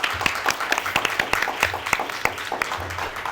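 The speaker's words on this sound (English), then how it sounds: "give the artists a round of applause." An audience at a Harriet Tubman freedom center gathering applauds the artists, a scattered spread of hand claps with sharp individual slaps standing out over the crowd.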